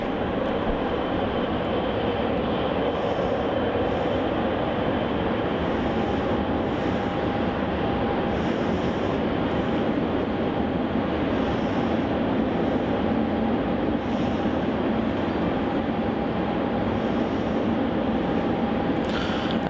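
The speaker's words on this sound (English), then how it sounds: "And here's that Cathay 777 now taxiing into the international terminal." A Cathay Pacific Boeing 777 taxis toward the international terminal at Melbourne Airport with a continuous, even jet-engine rumble and hiss. The sound is fairly loud and steady, with no voices over it.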